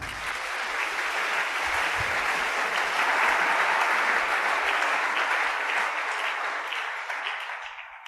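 A church congregation in a French-language worship service breaks into sustained, dense applause that swells, holds steady and then fades toward the end, with no talking over it.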